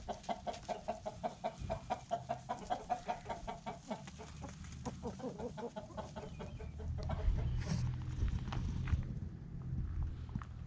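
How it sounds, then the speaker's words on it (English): Chickens let out of their coop on a farm cluck and peck outside, with rhythmic repeated clucks at first, then looser calls over a rising rumble of wind or background noise. "chickens have been cooped up all day, so I've let them out for a bit of freedom for an hour or two."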